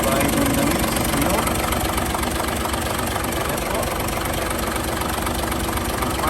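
The diesel engine of a 16-year-old Fuso Super Great 10-wheeler truck idles during a pre-auction inspection, a loud, steady rumble with a knocking throb that runs unbroken throughout.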